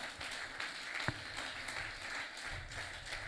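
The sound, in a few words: congregation clapping hands for the Lord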